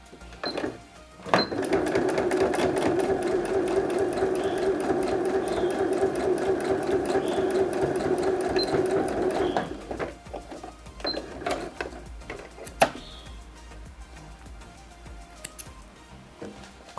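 A sewing machine stitches fabric for an Easter basket in one loud, rapid, steady run of about eight seconds, then stops, leaving a few light clicks and handling sounds.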